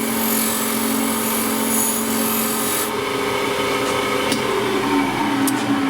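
A power tool polishes dark heat-treat scale off the steel blade of a travisher, a steady continuous rasping, rubbing whine that stays loud and close throughout, with a higher hiss dropping away partway through.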